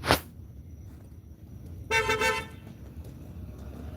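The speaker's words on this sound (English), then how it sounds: "1:13 in the morning honking a fucking horn?" A car horn honks once in the middle of the night, a brief, bright toot from a vehicle outside, moderately loud over quiet background hiss.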